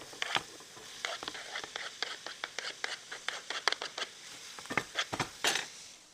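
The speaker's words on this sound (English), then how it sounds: "We'll saute them for a couple minutes just to get them yellow gold." Chopped onion sautéing in olive oil in a pan over medium heat, with a run of sharp crackles and spatula clicks over a soft background hiss.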